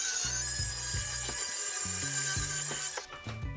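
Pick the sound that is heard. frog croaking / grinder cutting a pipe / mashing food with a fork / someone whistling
grinder cutting a pipe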